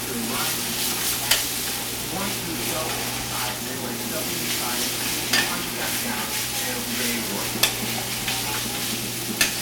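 Garlic powder mixed into food sizzling in a breakfast pan, with a steady dense frying hiss and occasional scraping taps of a utensil, a voice speaking softly underneath.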